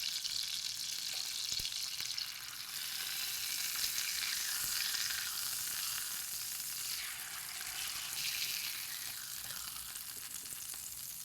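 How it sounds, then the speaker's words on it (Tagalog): A sandwich frying in a pan, giving off a steady, bright sizzle of hot oil that swells and settles with stirring, fairly close and heard without talk. "Let's fry one more."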